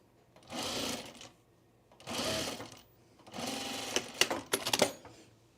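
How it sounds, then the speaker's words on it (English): Sewing machine stitching a binding seam around the corners of a pre-quilted Tamarack jacket, three bursts of steady whirring with pauses between, the last broken by clicks and short stops, close and fairly quiet. "I'm kind of just rounding off those corners with my binding seam here."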